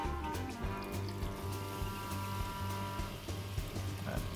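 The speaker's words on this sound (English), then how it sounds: "So now we can add the water to it." Water poured into a pot of masala curry for mutton nihari, a steady splashing pour over a continuous low hum, with no talk.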